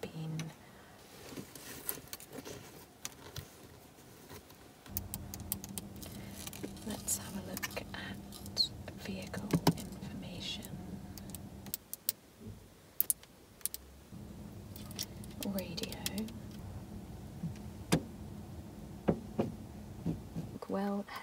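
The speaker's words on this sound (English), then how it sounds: "Somebody suggested a video playing with the buttons or pressing the other things in my car other than just driving." Long natural nails tap and press buttons inside a car, giving scattered light clicks and taps, close and quiet, under soft-spoken talk that runs through much of the scene.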